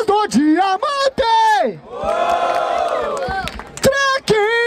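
Battle rap audience at the Batalha da Aldeia in Barueri roaring and shouting for a rapper's rhymes, a swell of crowd noise between loud, sustained shouted calls from a nearby voice.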